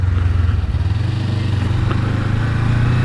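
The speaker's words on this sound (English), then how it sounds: "you can use your downshifting to use for engine braking" A motorcycle engine winds down in a steady droning pitch while downshifting for engine braking on a wet road, loud and close with continuous wind rush.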